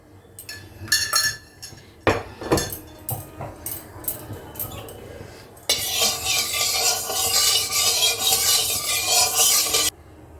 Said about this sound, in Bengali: এবার আমি এর মধ্যে তেল দিচ্ছি অল্প করে